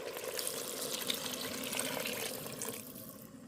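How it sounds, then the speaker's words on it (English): Three cups of water pour steadily into an Instant Pot for corn chowder, a soft continuous splashing stream at low level that eases off near the end, with no talking. "now we're going to add our 3 cups of water"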